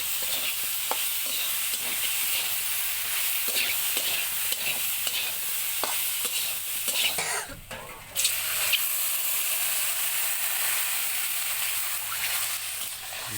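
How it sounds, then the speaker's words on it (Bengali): A potato, bitter-gourd and fish curry with chili powder is stirred in a pan over a continuous close sizzle and frying hiss, with scraping strokes throughout and a brief louder burst of steam midway. "ভালো করে নাড়াচাড়া করতেছি, নিচে যেন লেগে না যায়। এখন মরিচের গুঁড়োটা দিয়ে দিচ্ছি।"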